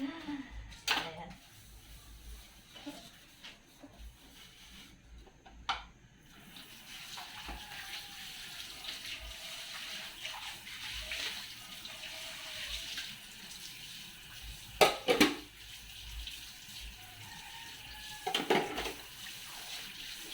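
Tap water running at a kitchen sink while used utensils are washed, a steady faint stream with occasional clinks and splashes and a person talking over it.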